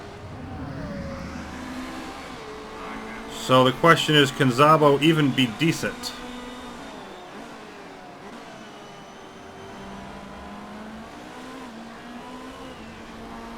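Race cars from the Motorsport Manager video game at the Tondela circuit, a near engine surging and revving in a short burst midway, with faint engine drone underneath steady commentary from someone talking throughout.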